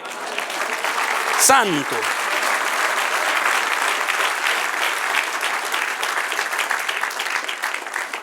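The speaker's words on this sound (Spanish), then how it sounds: "Denle un aplauso al que reina." A church congregation breaks into loud, sustained applause, and one voice briefly calls out early on over the steady clapping.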